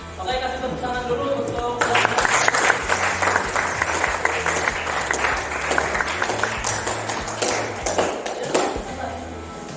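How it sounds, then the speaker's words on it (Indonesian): Classroom applause for a student group that has come forward to present its discussion results, many hands clapping steadily over a low hum, with scattered sharp claps near the end. "Oke, kasih tepuk tangan dulu untuk"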